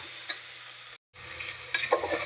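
Onions sautéing in a pan for a Kerala thattukada-style beef curry, with stirring scrapes and a soft, steady sizzle, near and unvoiced, briefly cut by a moment of silence midway.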